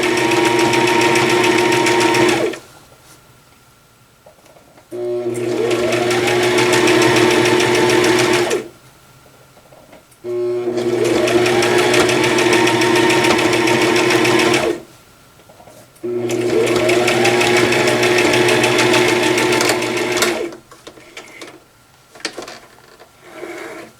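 A sewing machine stitches a zigzag seam on a cross stitch pillow in three loud, close bursts of rapid whirring, each lasting a few seconds, with short quiet pauses between them.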